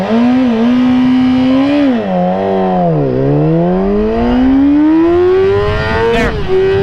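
A 2014 Yamaha R6 sport motorcycle revs hard at a launch, its engine note swooping down and climbing back up in a loud, continuous rising wail, close and alone with no talk.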